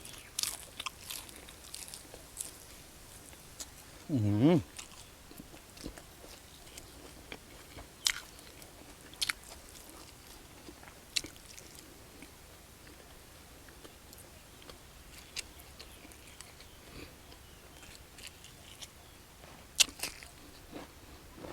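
Crunchy fried mackerel head is eaten close up, with scattered loud bites and crisp crunches separated by quieter chewing over a long stretch.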